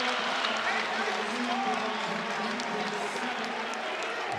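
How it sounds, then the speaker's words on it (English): A basketball arena crowd roars and cheers in a steady, loud wash of noise during a college game between Kent State and St. Bonaventure, with a commentator talking over it. "Crowd getting back into it."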